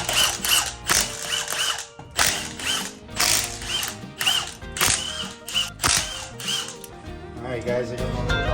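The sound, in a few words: ratchet removing Toyota Tacoma wheel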